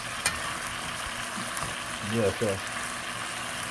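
Parrot fish frying in a pan, a soft steady sizzle with faint crackles, briefly overlaid by a man's short spoken words partway through.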